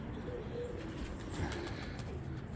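Pigeons in a breeding loft outdoors in cold weather give soft, low coos with occasional brief wing flaps, all faint and close against a quiet background.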